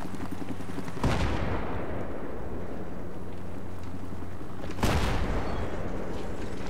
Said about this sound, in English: Now why is everything exploding?